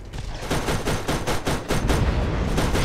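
Rapid automatic gunfire from a weapon in the video game Borderlands, a loud close burst of evenly spaced shots rattling on for about three seconds.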